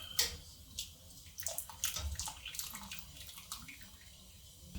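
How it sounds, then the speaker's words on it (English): Recently boiled water slowly tipped out of glass canning jars into a pot while water-bath canning tomato sauce and juice, a soft, uneven splashing and trickling pour that rises and falls over several seconds, close by with no talk. "tilting it very slowly so as not to splash any of that recently boiling water on myself"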